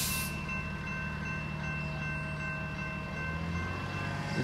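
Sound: Amtrak San Joaquin passenger train approaching station

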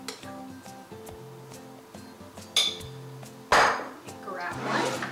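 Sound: grabbing a bigger spoon from utensils

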